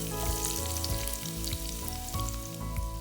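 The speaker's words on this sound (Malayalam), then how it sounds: "ഇനി ചൂടായ വെളിച്ചെണ്ണയിലേക്ക് നമുക്ക് ഈ ക്യാരറ്റ് ചേർത്ത് കൊടുക്കാം." Carrot sticks frying in hot coconut oil for a lemon-peel pickle, giving a steady, fairly loud sizzle with a low background hum, close up and with no voices.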